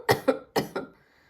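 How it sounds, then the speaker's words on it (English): Several adults cough in quick succession, four sharp close coughs in two pairs, with a faint tail afterward. "All the adults start coughing too."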